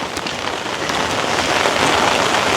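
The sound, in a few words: rain falling while walking home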